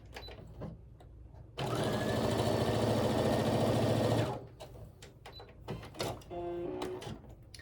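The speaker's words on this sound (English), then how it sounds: "I'm going to sew down that line as well" A sewing machine stitches quilt fabric along a drawn diagonal line, a steady close whirring run of about three seconds between quieter handling sounds, with brief faint talk in the quieter stretches.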